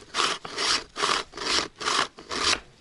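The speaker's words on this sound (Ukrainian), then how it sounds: "Вставляю тепер коньки і ось так от заточую." Ice skate blades sharpened by hand at home with a sharpening block give six steady back-and-forth rasping strokes, close and evenly timed, with no voices.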